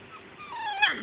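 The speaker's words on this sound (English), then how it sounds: "One was growling at himself because he was stuck in the box." A young puppy gives a single short, high whimper that rises into a thin yip, close by and alone.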